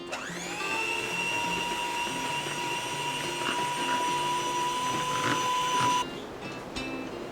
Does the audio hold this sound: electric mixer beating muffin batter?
yes